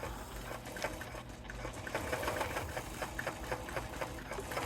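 A small long arm quilting machine on a frame runs steadily while basting a quilt, its needle making a fast, even mechanical chatter close by, with faint low hum underneath and no talking.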